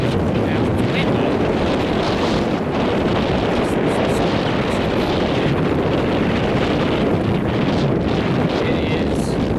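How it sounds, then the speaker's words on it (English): Strong, steady wind roars against the microphone on a lake shoreline at Deep Creek Lake, a dense continuous rush with no pauses throughout. "Now it's windy."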